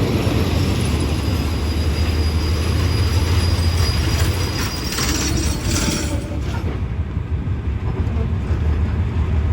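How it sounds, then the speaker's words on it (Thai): Train 446 arriving at a railway junction station in the rain, a loud, close rumble of rolling wagons with screeching, squealing wheels that lasts throughout under steady rain noise. "ชุมทางหัดใหญ่ชุมพรจะเข้าสู่สถานีชุมทางบ้านทุ่งโพครับ"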